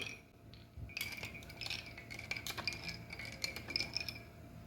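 A spoon stirs lemon mint sherbet with ice and cold water in a glass, giving quiet, close, repeated clinks and chinks of metal against glass in an irregular rhythm.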